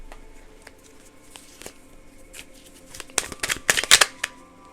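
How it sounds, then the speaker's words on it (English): A stack of index cards being shuffled, starting with quiet scattered rustles and flicks, then building into a close, brisk flurry of riffling card snaps near the end. "let's grab a stack of index cards."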